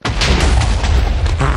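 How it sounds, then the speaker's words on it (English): A Minecraft TNT block explodes during a Super Craft Bros. match, a loud, dense roaring blast that fills the whole moment without letting up. "All I heard is TNT, and I hear a giant log explosion"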